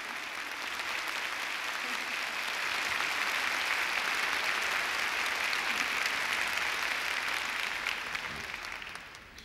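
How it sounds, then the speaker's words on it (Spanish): Warm, steady applause from an audience greeting a guest musician at a stage tribute event, dense continuous clapping at moderate distance that holds evenly and tapers slightly at the end. "Lo recibimos con un fuerte aplauso."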